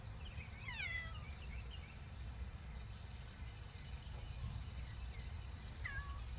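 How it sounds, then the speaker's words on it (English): A cat in a workshop meows a couple of times, faint and high, once near the start and again at the end over a low steady hum. "This is Crush, my other faithful shop cat."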